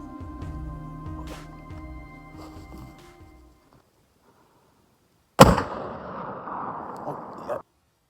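A single loud rifle shot during a backcountry mule deer hunt, a sharp crack followed by a rolling echo across open terrain, after a quieter stretch of low rumbling and faint sounds.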